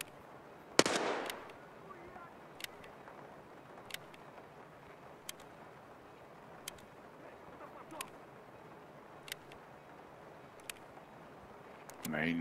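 Gunshots in the Escape From Tarkov video game: one loud close shot, then a series of sharp distant single shots spaced a second or so apart over quiet background, with people talking.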